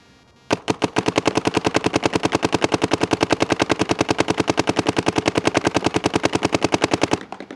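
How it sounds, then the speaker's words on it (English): An HK Army Shocker AMP paintball marker fires outdoors in a long rapid string of sharp, evenly spaced pops, loud and close, running for about six and a half seconds without pause before stopping. "let's shoot the HK Army shocker amp and see how it compares."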